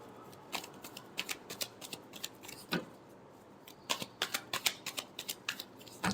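A deck of tarot cards is shuffled by hand, giving quick, crisp riffling clicks and flicks in uneven bursts, close and fairly quiet, with no speech over it.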